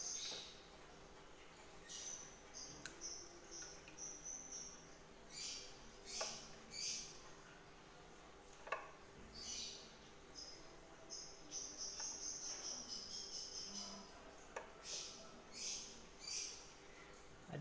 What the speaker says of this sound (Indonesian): Ada suara burung di belakang.